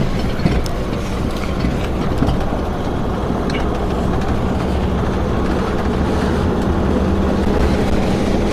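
A 1972 VW Super Beetle air-cooled engine runs steadily while the car drives along, held in second gear, with a continuous rumbling, clattering drone at even loudness throughout and no talk.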